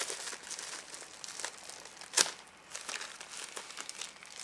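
A package in the mail being cut open: close, continuous crinkling of wrapping plastic and paper with one sharp tearing snip partway through, heard alone without talk.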